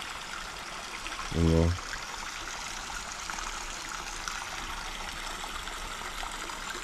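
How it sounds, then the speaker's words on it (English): A small spring-fed stream trickles down a wooded hillside on a spring day, giving a steady, close, broadband rush of running water throughout, with a brief low thump near the start and a single spoken word. "that little spring comes out of the side of the hill up there"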